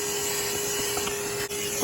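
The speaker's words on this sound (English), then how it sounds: "Vacuum it out" A vacuum cleaner runs steadily while clearing debris out of the empty air filter housing of a Mini Countryman, with a constant whirring drone and no voices.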